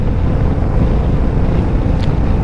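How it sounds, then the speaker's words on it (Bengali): Steady, loud wind roars and buffets the microphone on a moving motorbike on the highway, without letup, a constant low rush of air at speed. "উল্টো দিক থেকে হাওয়া আসছে অস্বস্তি হচ্ছে না"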